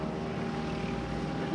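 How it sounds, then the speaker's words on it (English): A World War II B-17 bomber passes at an air show, its engines giving a steady, loud propeller drone that holds evenly throughout with no voices. "As we watch this wing walker, it is flying by a B-17."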